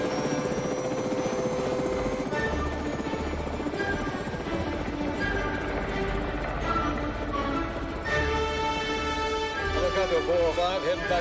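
Helicopter heading back to an offshore platform, a steady rotor drone and whine running continuously and fairly loud beneath music and shouting voices.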